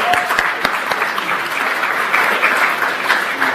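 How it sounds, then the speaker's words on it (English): Sustained applause from a seated audience at a panel discussion on Ontario's post-election political landscape, steady dense clapping throughout, a few sharper claps standing out near the front. "I think that's something we should all applaud here"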